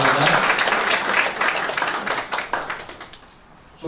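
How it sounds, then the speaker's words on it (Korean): At a formal gathering of a regional peace ambassadors' council, the audience breaks into dense, sustained clapping to welcome a speaker. The applause is loud at first and then tapers off. "큰 박수로 맞으시기 바랍니다."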